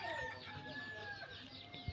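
A small hen clucks in short, close calls over a low, busy farmyard background, with a faint crow-like tone running through.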